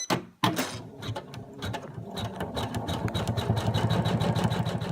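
An embroidery sewing machine stitches fabric onto a bag, running in a steady rapid mechanical chatter after a brief start, close and continuous.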